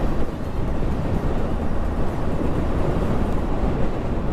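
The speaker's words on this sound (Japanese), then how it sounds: "飛行機、" An airplane flies overhead on a cold day outdoors, a steady, full, broad roar that holds evenly throughout with a rough wind-like texture and no talking.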